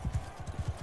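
Horse hooves clip-clopping in the video game Mount & Blade II Bannerlord, a quick run of six or so close, muffled thuds in a steady trotting rhythm.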